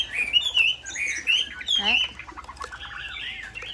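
A female hwamei songbird in a seller's cage gives bright, warbling calls and chirps in quick bursts, close and clear, with someone speaking briefly over it.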